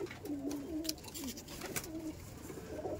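Teddy pigeons coo in a loft, several soft rolling coos repeating over a steady background of rustling and low noise, fairly close.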